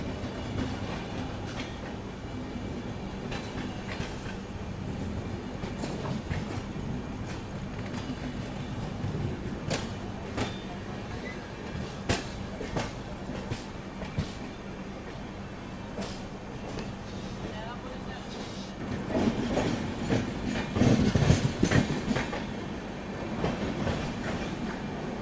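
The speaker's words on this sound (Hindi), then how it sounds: "तो ये है अहमदाबाद योगी नगरी ऋषिकेश योगा एक्सप्रेस" Ahmedabad–Yog Nagari Rishikesh Yoga Express train rolling past with steady rumble and wheel clatter, continuous throughout with louder bursts near the end, no talk.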